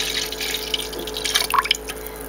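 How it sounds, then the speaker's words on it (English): A heated mixture for vegan English muffins is poured into a bowl, a short wet trickle with a few drips and splashes, close and moderately loud. "So then you're going to take the mixture that you just heated up on the stove and pour it in."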